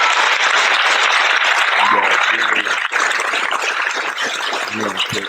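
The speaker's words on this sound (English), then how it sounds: "Round of applause." Loud, dense applause from a crowd, continuous throughout, with a few brief voices breaking through near the end.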